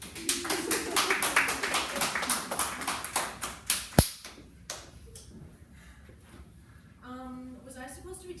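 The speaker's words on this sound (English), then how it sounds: "You can clap now." A small group claps after a play reading: a few seconds of close, distinct handclaps that quickly thin into scattered claps, followed by quieter room noise and a short stretch of talk.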